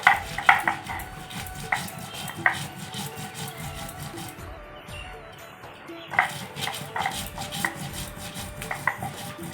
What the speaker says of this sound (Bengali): কেটে নিব শুকনো লঙ্কা